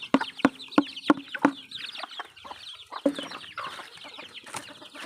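Farm chickens cluck close by, a run of sharp rhythmic clucks followed by a busier scatter of overlapping clucks and chirps from several birds.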